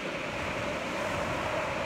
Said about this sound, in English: Soak in the sounds of these beautiful waves